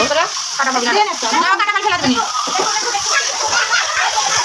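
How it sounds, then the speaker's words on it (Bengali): Chopped bottle gourd and potato sauté in a hot pan with a steady, loud sizzle and stirring scrapes, with a voice talking over it throughout. "দেখেন লাউগুলো মাখিয়ে সুন্দরভাবে কষিয়ে নেব"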